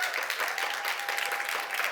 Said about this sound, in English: If you think the opposition won, so arguing for grassroots change, can you give me a cheer after 3?